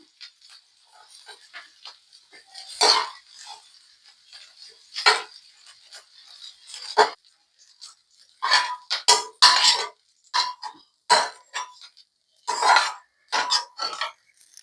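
Fried ivy gourds are scraped out of a pan onto a plate, making close, irregular clinks and scraping knocks of a utensil on cookware, with quiet gaps between bursts and no speech.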